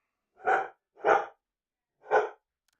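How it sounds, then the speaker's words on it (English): A dog barks inside a house: three sharp, separate barks, close and fairly loud, the first two quickly paired and the third after a short pause, with silence between them. "the dumb dog just came running from the back of the house, barking like we're being invaded"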